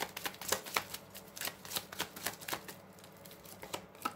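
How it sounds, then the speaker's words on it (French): Tarot cards being dealt and laid out on a table, a quick run of soft flicking, slapping taps at close range. "Je vais quand même mettre 3 cartes de plus sur la dernière ligne pour voir la suite."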